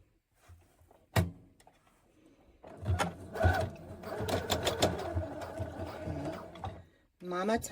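A sewing machine fitted with a heavy-duty needle stitches through a tote bag, running in a steady mechanical burst for several seconds after a brief start, loud and close.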